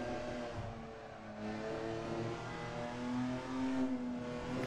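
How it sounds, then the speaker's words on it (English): GT4 race car engines in a sports car racing video game at Calabogie, a steady droning engine note that rises and falls as the cars rev and accelerate, moderately loud with no talk. "Hearing all these different engines sound cool."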